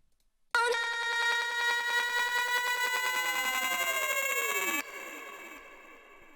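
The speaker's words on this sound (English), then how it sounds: "The way I make this like panning crazy effect, it's with Pan Man from Soundtoys." Short vocal phrase processed with Soundtoys PanMan, smeared into a bright, bell-like sustained tone with sweeping pitch swirls that runs for several seconds, then cuts to a softer fading tail.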